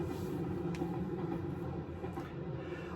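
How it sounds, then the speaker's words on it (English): A train rolls past nearby with a steady, dense rumble and rattle. The sound holds an even level for about three seconds, with no talking over it. "Ooh, train."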